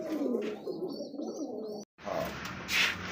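A tiger-coloured pigeon coos up close in a few low, throaty phrases with a short break partway through; no one speaks.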